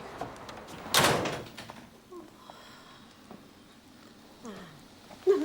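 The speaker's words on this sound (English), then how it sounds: "And close the door." A door swings shut with a loud, close knock in a quiet period-drama bedroom, followed by soft shuffling and small creaks with no talking.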